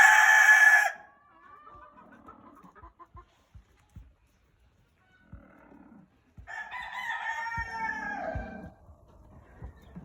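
Large fowl Mottled Chocolate Houdan chickens cluck and squawk excitedly, a loud burst of calls, scattered soft clucks and taps, then another rising chorus of agitated cackling.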